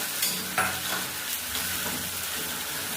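Chopped tomato sizzles and fries in a pan while a spoon stirs it, steady crackling hiss broken by a few scraping, clinking strokes near the start.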